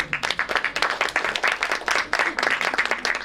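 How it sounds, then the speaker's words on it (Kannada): An audience applauds the film team at a trailer launch event for the movie Look Back. Dense, steady clapping from a crowd runs throughout at moderate volume, with no voices standing out. "ನಮ್ಮೆಲ್ಲರನ್ನು ಇನ್ಸ್ಪೈರ್ ಮಾಡುವ ಸಿನಿ ತಂಡಕ್ಕೆ ಜೋರಾದ ಚಪ್ಪಾಳೆ ಬರಲಿ"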